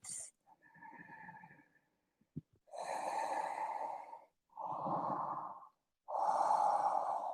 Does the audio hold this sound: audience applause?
no